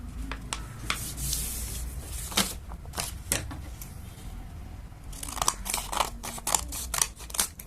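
Paper is folded in half by hand, close crinkling and rubbing with sharp creasing crackles in irregular bursts, a busy stretch early, a quieter middle, then another flurry.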